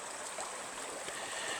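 River water rushes steadily past a mill race intake near a bridge at a sharp 90-degree bend in the river, a constant close hiss and burble with no talking.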